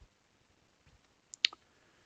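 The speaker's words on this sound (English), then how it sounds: "Let me click that" A computer mouse clicks once, short and close, followed by a faint second tick in an otherwise quiet room.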